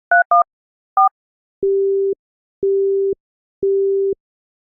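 A few short two-tone keypad beeps, then a telephone busy signal during a call: three identical steady tones, each about half a second long, evenly spaced and clear, with no talking.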